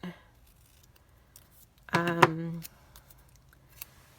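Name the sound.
scissors cutting paper for a craft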